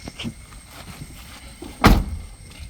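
A car door with a faulty lock is opened from inside, giving one sharp, loud latch clunk late in the moment after faint fiddling and soft rustles, close up and without speech.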